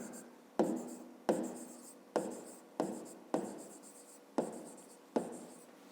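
A pen writes by hand on paper in short strokes, with about eight distinct scratching bursts each starting sharply and fading, close and quiet, with no talking.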